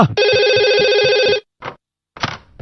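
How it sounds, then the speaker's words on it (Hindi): An old-style telephone bell rings loudly in a Doraemon cartoon scene, one long buzzing ring lasting over a second, followed by two shorter bursts of clattering sound after brief silences. "इस फोन को भी अभी बजना था।"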